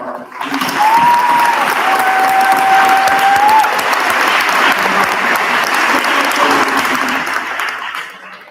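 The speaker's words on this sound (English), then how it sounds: "Please join me in one last round of applause for all of" Loud, sustained applause from a large audience at a high school awards night honoring students, filling the room steadily for about eight seconds before starting to taper off at the end.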